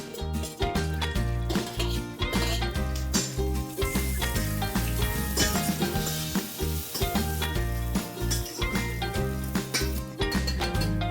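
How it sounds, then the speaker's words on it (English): Finely sliced onion fries with whole spices over steady heat, its sizzle sitting under loud continuous background music with strong rhythmic beats, so the frying texture is partly masked. "we're going to add 1 large onion that is finely sliced. And we are going to fry it till it's nice and golden brown in color"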